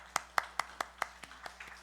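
A church congregation claps during a Sunday worship service to honor long-serving members, coming through as a run of sharp, evenly spaced claps that fade from fairly close to softer. There are no voices.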